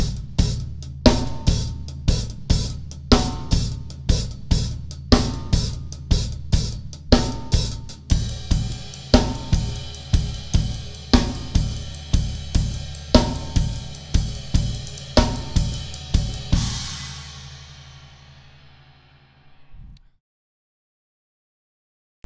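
A drum kit plays a steady half-time groove, kick and snare hits spaced evenly with cymbals washing on top, then the kit stops and a final hit rings out.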